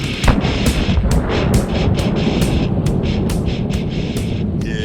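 A Walther P5 pistol fires about a dozen sharp, loud shots in quick succession at close range, each crack ringing briefly, with no talking.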